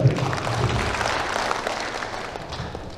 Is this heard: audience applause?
yes